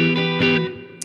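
A short, loud electric guitar chord from an Ibanez SC420 with pickups in series mode rings out with a thick tone, then fades over about a second before a small pick click.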